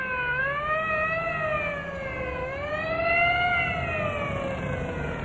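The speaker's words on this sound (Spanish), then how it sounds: "se dirige el coche de ambulancia que al parecer se dirige ahora al hospital militar" An ambulance siren wails in slow rising and falling sweeps, loud and steady throughout, with a faint rumble of traffic beneath.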